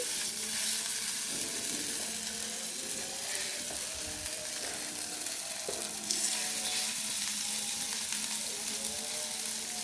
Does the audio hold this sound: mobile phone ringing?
no